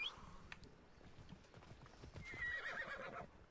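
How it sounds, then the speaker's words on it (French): A horse in Assassin's Creed Odyssey whinnies at the start, then its hooves clip-clop in a steady gallop while a second, louder neigh rises over the hoofbeats near the end. "Alors, je pense qu'on va prendre le cheval."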